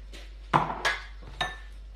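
A whisk clinks against a bowl while mixing cake batter made with wholemeal flour, three or four light metallic taps close by over a faint steady hum.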